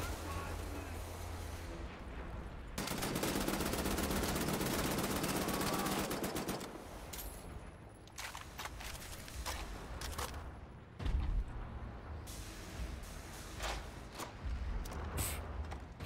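Rapid automatic gunfire from guns in Wolfenstein: The New Order, with a long loud burst followed by shorter bursts and scattered single shots, near and punchy.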